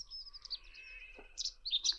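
A wild bird in Ireland sings a rapid mimicry song in flight, with high chirps, a thin sustained whistle and quick bursts of varied notes, fairly faint and alone outdoors.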